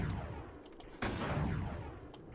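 Incoming rockets in the game N, heard as rumbling blasts and a sharp explosive hit partway through, loud and close, with no talking.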